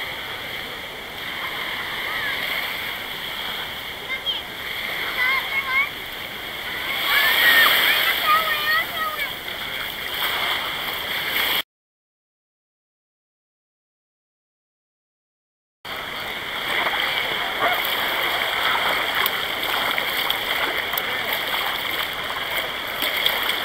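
Paddling a small boat through water out toward a bower, with steady splashing and sloshing close by over a broad wash of stream-like noise; a brief silent gap breaks the sound partway through, and a voice can be heard at moments.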